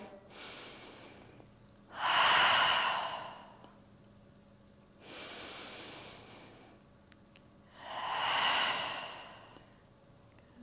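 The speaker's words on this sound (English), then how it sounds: "Let's take 2 big deep breaths here in mountain." Deep breathing during a standing yoga flow: two slow cycles of long, audible inhales followed by softer, airy exhales, close and clear over a quiet room.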